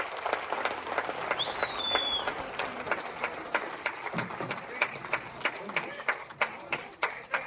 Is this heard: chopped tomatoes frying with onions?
no